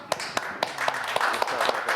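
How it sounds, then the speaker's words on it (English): A single person claps at a steady, moderate pace, with about eight sharp, distinct claps close by in a studio-like room. "oh, you could clap"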